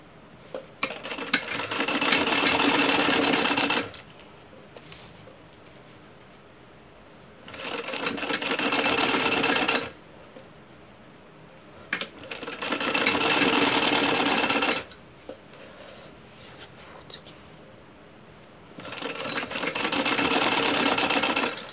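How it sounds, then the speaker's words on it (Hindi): A sewing machine stitches a fabric strip onto a kurti in four bursts of rapid, even whirring, each lasting a few seconds, separated by quiet pauses. "यहाँ पर हम सिलाई लगाते जाएंगे।"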